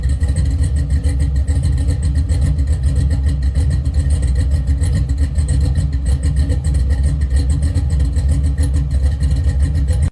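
A 1974 Chevrolet El Camino with a swapped 5.3 Gen 4 LS V8 running steadily at close range, a loud, continuous low rumble with no speech.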